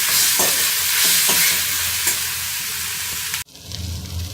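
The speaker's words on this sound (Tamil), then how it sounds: "வெங்காயம் வதங்கின உடனே தக்காளியை போடுறோம். தக்காளியும் நல்லா வதங்கணும்." Tomatoes and onions sauté in a pan for a groundnut vegetable kurma, a loud, dense sizzle with a few stirring scrapes, then an abrupt cut to a quieter, duller frying sound.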